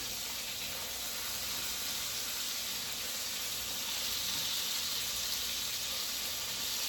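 Beef pieces frying in butter in a pan for a French beef roast give a continuous soft sizzling hiss, steady and even throughout.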